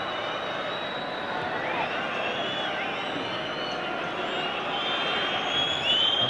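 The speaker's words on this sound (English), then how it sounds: "And the crowd demanding something more of England now." A football crowd in a stadium at an England versus USSR friendly match gives off a steady, distant roar and murmur throughout. A commentator's voice can be heard in places.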